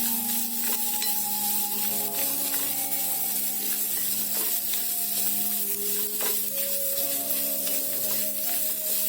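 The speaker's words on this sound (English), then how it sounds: "cook the amla for 3 minutes." Sliced amla gooseberries for chutney sizzle steadily in an uncovered pan as they cook, with occasional scrapes and stirs of the spoon heard over a continuous frying hiss.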